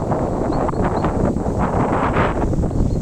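Wind buffets the microphone outdoors at a beach under cloudy skies, a constant low rumble with gusty swells and no one speaking.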